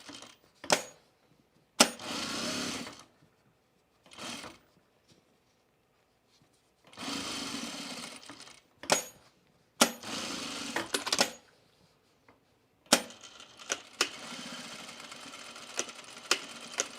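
Sewing machine stitching a tool case in short separate bursts of rapid mechanical whirring, with sharp clicks and quiet gaps between runs.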